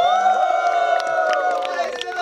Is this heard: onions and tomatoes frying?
no